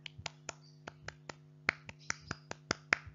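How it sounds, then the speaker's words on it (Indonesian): Indonesian scouts perform a tepuk pramuka, a rhythmic clap pattern of sharp, close, evenly spaced claps with a few quick doubled beats over a steady low hum, with no talking. "coba kita lakukan 1 kali tepuk pramuka."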